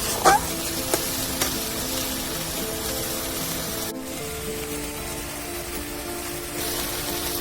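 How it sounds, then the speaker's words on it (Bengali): Ginger-garlic and chilli spice paste sautés in a pan with a little water for a raw green mango chicken curry, giving a steady, close hiss of sizzling with a few soft stirring knocks near the start. "আদা রসুন দেওয়া রয়েছে এটা দিয়ে দিলাম অল্প একটু জল দিয়ে কষিয়ে নিচ্ছি"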